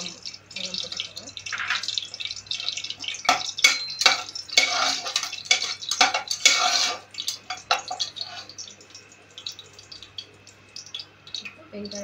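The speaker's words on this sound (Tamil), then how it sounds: "எண்ணெய் காஞ்ச அப்புறமா பட்டை, ஏலக்காய், கிராம்பு எல்லாம் போட்டுக்கோங்க." Whole spices for a meal maker biryani (cinnamon, cardamom and cloves) crackling in hot oil with scraping stirs, in a bursty clatter that fades to quieter intermittent sizzling, and no voices.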